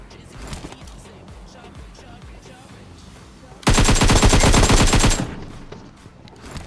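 A rapid burst of automatic gunfire in PUBG Mobile, loud and close with a fast, even rattle lasting about a second and a half, after quieter game noise.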